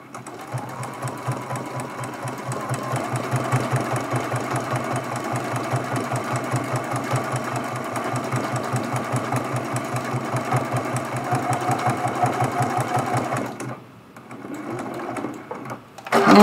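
A sewing machine stitches rapidly and steadily while quilting appliqué Christmas tree ornaments, a close, even mechanical whir with fast repeating needle clicks, pausing briefly near the end before restarting.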